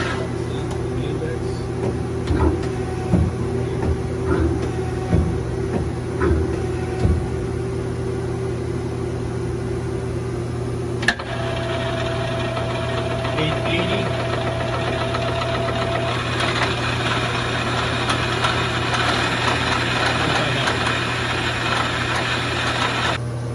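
A 2005 Mazak Quick Turn Nexus 350M lathe runs its live milling spindle at 2600 RPM, a steady mechanical hum with a sustained whine, occasional ticks and a sharp click midway, with a voice talking over it.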